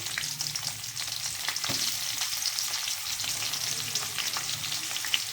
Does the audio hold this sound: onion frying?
yes